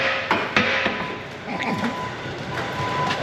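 A few sharp metallic hammer strikes on a John Deere 450G dozer's transmission parts during install, close and loud, over background noise and a faint voice, followed by lighter scattered knocks.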